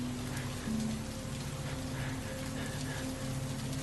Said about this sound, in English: The only thing you hear is the muffled sound of the rain pattering against the windows and roof